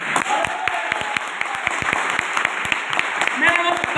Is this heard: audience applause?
yes